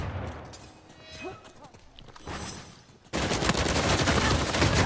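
Rapid bursts of automatic gunfire in an Uncharted 4 multiplayer King of the Hill match, starting quietly and then turning loud and dense in the second half as continuous shooting fills the scene.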